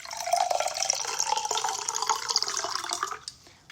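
Warm water is poured into a cup for a home drink remedy, a steady splashing, filling stream that runs continuously and then tapers off at the end, close and clear.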